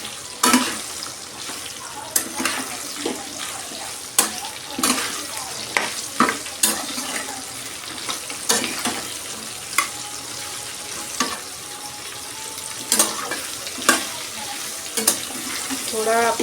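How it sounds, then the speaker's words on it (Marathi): Okra (bhindi) stir-fries in hot oil in a pan, a steady close sizzle broken by repeated scraping knocks of a spoon stirring at an uneven rhythm, with no voices. "आता ही भेंडी आपण तेलात परतून घेऊया चांगली."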